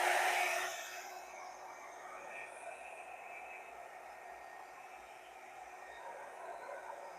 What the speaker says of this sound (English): Let me see if I can get the heat gun on this thing.